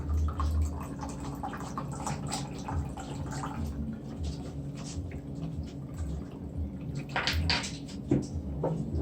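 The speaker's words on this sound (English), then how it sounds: "You're just gonna pour the rum and the wine." Rum and wine pouring steadily over fruit in a container, a continuous watery splash and trickle close by, with no talking.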